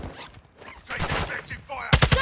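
Bursts of automatic gunfire in Call of Duty DMZ, fast rattling volleys that grow louder toward the end, mixed with a voice talking.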